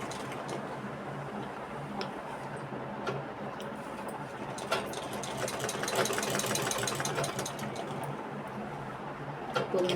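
A sewing machine stitches a high neck collar, a close, steady mechanical whirring with rapid needle ticking, running continuously with small surges in pace and occasional clicks.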